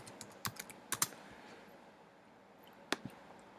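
Fingers tap on a computer keyboard in a few quick bursts of soft, close keystrokes separated by pauses, quiet and alone with no talking.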